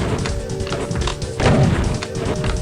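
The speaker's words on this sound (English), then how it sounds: "shooting the cyber demon about 30 times with the super shotgun" Super shotgun blasts hammering a Cyberdemon in Doom, on the Slaughterfest 2012 map Island of Mystery, come as dense repeated booming shots over a constant loud wash of game noise, with a heavier thud cluster midway.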